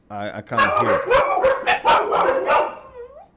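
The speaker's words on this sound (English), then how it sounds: "These dogs are gonna drive me crazy." Dogs whine in short high cries at the start and end, mixed in with someone talking close by indoors.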